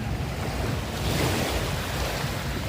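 Ocean waves surge and wash steadily onto a beach with turquoise sea water, a continuous loud roar of surf with some wind buffeting the microphone and no voices.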